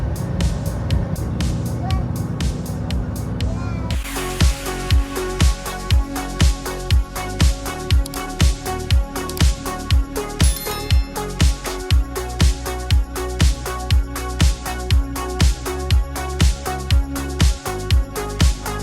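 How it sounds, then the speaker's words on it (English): Bus 80 between Amsterdam and Haarlem, a steady engine drone and road rumble throughout, joined after a few seconds by a rapid, regular clicking or rattling tick that runs on to the end. "We're on the bus to Haarlem"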